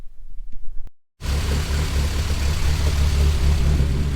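Chevrolet Nova engine starting up and settling into a fast idle around 1000 RPM, a loud, steady, throaty rumble close to the car after a brief cut-off of earlier cranking.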